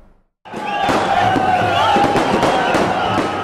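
Firecrackers burst at a street celebration in Srinagar, Kashmir, with a sharp crack, then a sustained noisy crowd din with scattered pops and cheering voices.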